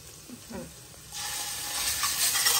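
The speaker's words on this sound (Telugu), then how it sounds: "సో ఇప్పుడు అల్లం వెల్లుల్లి పేస్ట్ వేసేసుకుందాం." Ginger garlic paste hits carrots frying in a pan, the low crackle jumping into a louder, steady sizzle and hiss after a faint voice and a few soft stirring clatters.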